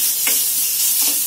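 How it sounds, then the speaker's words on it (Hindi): A spice paste sizzles loudly in hot oil as it is stirred, with two short scrapes against the pan, heard close and brief, without any voices. "तेल गर्म होगा तो उसमें डालना है कोई पेस्ट को, ऐसे अच्छे से भूनना है"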